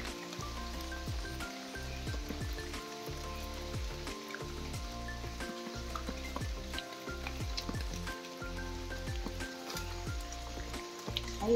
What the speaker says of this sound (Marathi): हे पावसाच्या पाण्याने थेंब पडतात ना